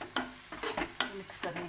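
A spoon stirs dabeli filling mixture in a pan, a few quick scraping strokes in a short uneven rhythm with faint sizzling, close and alone without talk.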